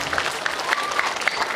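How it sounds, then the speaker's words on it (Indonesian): Applause for a sholawat hadrah group at a Maulid Nabi gathering, a crowd clapping steadily with scattered louder claps, moderately close, with no voices over it. "Tepuk tangan buat tim salawat Hamzah Hadrah Mazidah."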